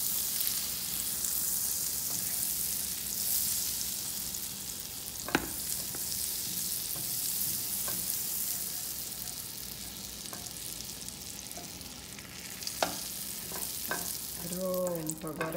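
Butter melting with olive oil in a frying pan gives a steady, close sizzling hiss that runs throughout, with a few faint clicks and scrapes along the way.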